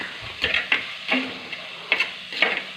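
Onions sautéing in a pan for a mackerel fish curry, with a soft sizzle beneath a handful of close, irregular scrapes and clacks of a spoon stirring against the pan.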